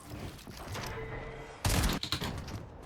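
Shotgun fire in Fortnite, a single loud close blast cutting sharply through quieter game sounds, followed by a few smaller clicks and shots.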